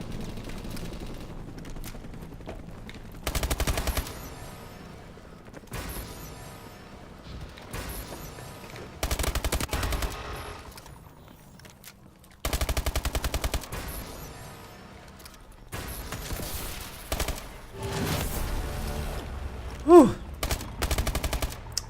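Bursts of rapid automatic gunfire in the video game Call of Duty: Advanced Warfare, several loud sustained volleys separated by quieter stretches, with a sharp single report near the end.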